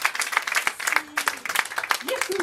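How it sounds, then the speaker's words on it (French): Audience applause for performer Annie Schneider at a January 2014 evening show: steady, dense clapping filling the short stretch, with a few voices and a brief whistle-like tone mixed in. "Applaudissez-la, mesdames et messieurs, Annie Schneider."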